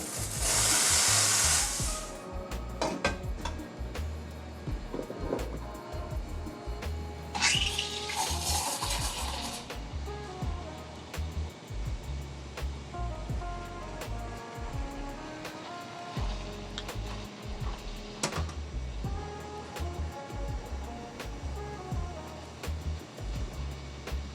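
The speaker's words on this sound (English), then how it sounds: "This machine is a lot quieter in the steam one than like any I've ever used." An espresso machine's steam wand steams milk for a latte. Short bursts of airy hissing sound at the start and again partway through, amid clinking cups and metal kitchen clatter.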